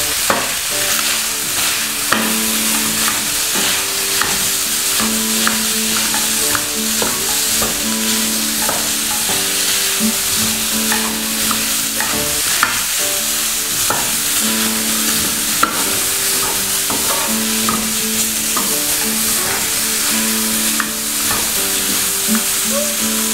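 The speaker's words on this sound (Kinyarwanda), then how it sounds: "tuvange kugira ngo umunyu ukwirwe hose." A stew frying in a pot while salt is stirred in, giving a dense, loud sizzle throughout with repeated spoon scrapes and clinks against the pot, close and continuous for over twenty seconds, with no speech.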